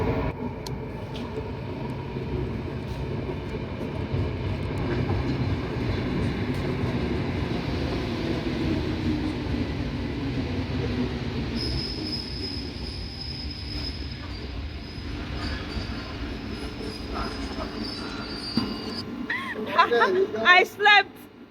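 Passenger train ride in Poland arriving in Gdańsk, with a steady rumble of railcars and wheels on track throughout, a long high wheel squeal in the second half, and a few louder clanks near the end.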